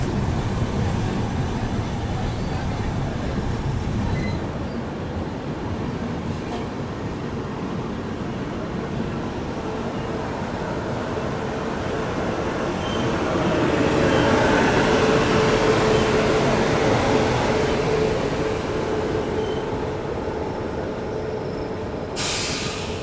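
Seemanchal Express passenger train creeping slowly under a speed restriction: steady rumble and rattle of railcars heard from inside, swelling somewhat louder midway, continuous throughout with no speech.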